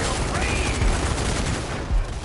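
Dense gunfire in Zombie Army 4, a heavy, continuous barrage of shots with a couple of louder booms, filling the whole stretch with noise and no clear gaps.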